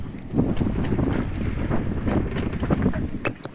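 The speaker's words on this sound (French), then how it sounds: "Ouais, il y a pas mal de vent." Strong wind buffeting the microphone in a steady low roar, with rushing gusts and faint creaks, no talking.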